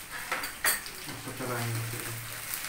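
Soybean biryani ingredients, with garlic-ginger paste just added, are stirred in a pot with a few clinks of a utensil against the metal and a soft sizzle underneath.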